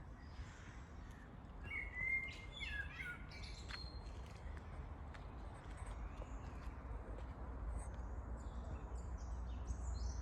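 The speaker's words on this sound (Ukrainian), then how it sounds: "звучать голоси пташок місцевих." Local birds in Holosiivskyi park in Kyiv give scattered chirps and short calls, thin and fairly distant, over a steady low hum of park and city noise.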